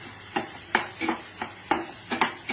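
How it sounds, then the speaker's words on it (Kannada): Food frying in ghee in a pan, stirred in quick strokes that set off about seven sharp scraping sizzles over a steady background hiss. "ಇದು ತುಪ್ಪದಲ್ಲಿ ಹುರಿಬೇಕು"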